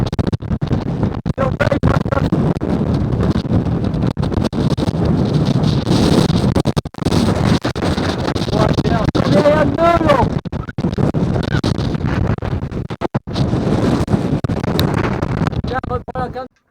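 Loud, roaring wind gusting to 45 knots buffets the microphone continuously aboard a sailing dinghy off the west coast of Sardinia, with rushing water and boat noises beneath, while a person shouts and talks over the gusts.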